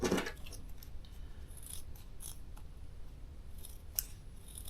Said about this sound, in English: you need some good sharp scissors for this because there's going to be layers of fabric